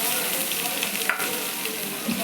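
Onions sauté in hot oil alongside dried chillies for a chickpea sundal kootu, giving a steady, close, even sizzle throughout with no talking.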